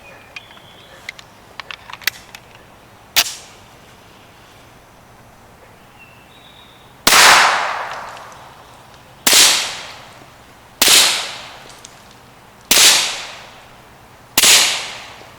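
Suppressed subsonic 124 grain 9mm Luger rounds fired outdoors, five sharp loud cracks at irregular intervals, each with a short decaying tail, preceded by small ticks and clicks.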